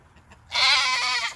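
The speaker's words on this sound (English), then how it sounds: "Here's a problem with goats." A single goat bleats loudly and close by in a barnyard, one wavering cry of about a second that breaks out of near silence and then stops.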